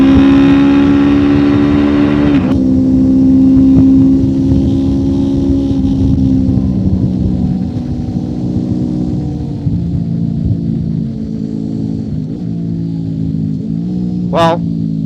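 A 1999 Honda VFR motorcycle runs hard on a lap of the Nürburgring Nordschleife, its engine wailing loud and close, then dropping sharply in pitch as it shifts and settling into a steady droning pull.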